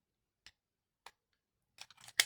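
Paper trimmed with a pair of scissors during a craft project, a few separate crisp snips spaced apart followed by a quick burst of rapid cutting at the end, close and fairly quiet with no talk.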